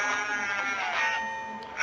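Goats bleat in the Deer Man video game, a wavering, reedy animal cry held for nearly two seconds at moderate volume, with no talking over it.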